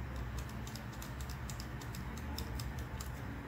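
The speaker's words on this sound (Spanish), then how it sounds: "Mantengo presionado la tecla Control y presiono varias veces la tecla Z" Computer keyboard keys are tapped repeatedly in quick, light clicks, a steady run of small ticks over a constant hum of background noise.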